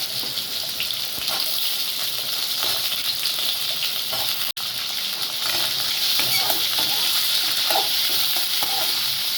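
Drumstick pieces sautéing in oil in a pan for sambar, a loud, continuous bright sizzle with soft stirring scrapes and crackles throughout, broken by one brief dropout midway.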